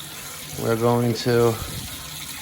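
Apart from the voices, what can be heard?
water running from a hose spout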